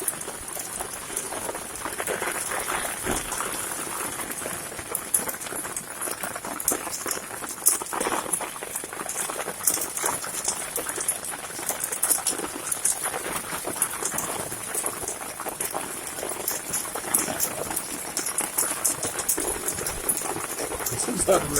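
Hail pours down at John Wayne Marina, a dense, continuous clatter and rattle that stays loud and steady throughout, with occasional voices underneath.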